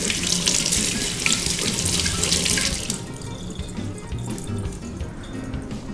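Tap water runs strongly into a sink to rinse food, a loud broad hiss for about three seconds that then eases into a softer, splashy trickle, with no talking.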